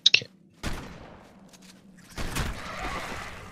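Gunfire in the video game Ark Survival Ascended, with two heavy shotgun-like blasts booming out after a brief sharp click, each followed by a long rumbling decay under game ambience.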